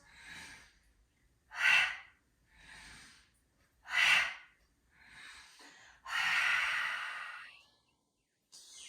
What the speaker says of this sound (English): pick up the pace of the breath. So inhale, exhale, inhale, exhale.